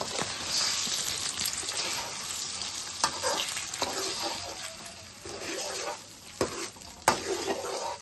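Beaten eggs hit hot oil in a pan and fry on a low flame for egg fried rice, a steady close sizzle broken by a few sharp clinks and scrapes of a utensil stirring.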